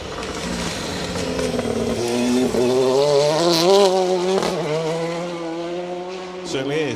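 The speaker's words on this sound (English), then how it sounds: "Sounds like John Morrison's Fiesta is up next." A Ford Fiesta rally car driven by John Morrison on a stage of the Carlisle Stages Rally, engine revving hard and rising through gears as it passes close by, with tyre noise and a quick lift-off near the end.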